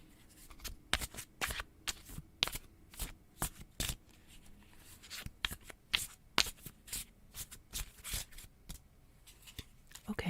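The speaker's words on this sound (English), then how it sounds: "I'd already shuffled these cards quite a bit" Cards being riffled and shuffled repeatedly in quick bursts, crisp flapping snaps close by, with short pauses between shuffles and no talking.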